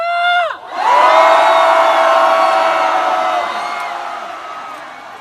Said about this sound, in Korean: 분노의 함성